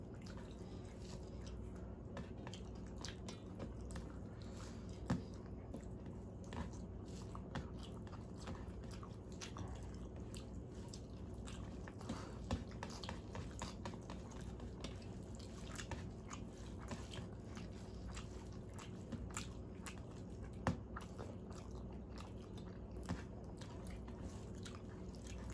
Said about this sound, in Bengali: এবার খাবো মাছের ঝোল।